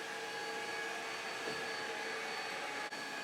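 An iLife ShineBOT W450 mopping robot runs across a floor with a steady, close whirring hum, a continuous motor drone that holds level throughout with no talking.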